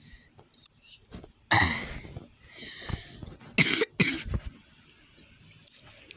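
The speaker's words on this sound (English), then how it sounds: "Sorry, though, I have cough." A person coughs several times in short, sharp bursts close to the microphone, with quiet murmured speech and faint clicks between them.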